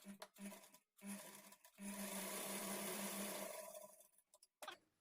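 A sewing machine runs in short bursts while stitching a folded blouse lining, a brief start-stop whir followed by a longer steady run of about two seconds, then quick taps as it halts.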